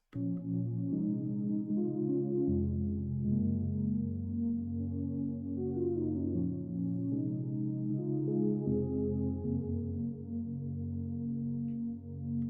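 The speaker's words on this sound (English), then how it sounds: "it's a pad from Omnisphere. It's a Pillowy pad piano preset" Soft, sustained synth chords from an Omnisphere pillowy pad piano preset with a warm tone, slowly shifting from one chord to the next, steady and mellow with no voices.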